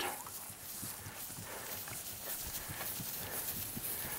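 A horse trots toward a log jump outdoors, with a steady rhythmic beat of hooves on the ground under constant hiss of wind or ambient noise.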